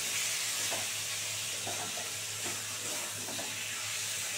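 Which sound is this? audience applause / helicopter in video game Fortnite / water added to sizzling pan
water added to sizzling pan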